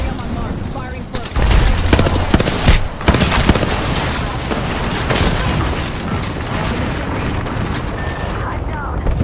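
Video game combat with rapid, continuous gunfire and heavy booming grenade explosions, loud and close, running densely throughout with a few bigger blasts early on.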